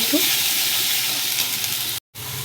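Fish curry spices frying with turmeric powder in a pan, giving a loud, steady sizzle that cuts out briefly near the end and then returns.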